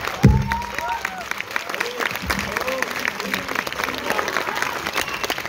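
An audience at a Hindi motivational family talk breaks into applause, a dense patter of clapping with a sharp burst at the start, running beneath a voice.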